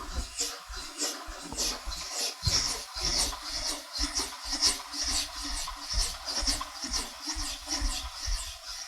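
A steel card scraper rubbed back and forth on a 4000 grit water stone, producing a quiet, rhythmic wet rasping stroke repeated steadily, close and soft with no talk.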